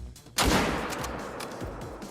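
A rifle shot rings out at an ibex in a hunting video game: one sudden, loud crack that then fades into a long, rumbling echo.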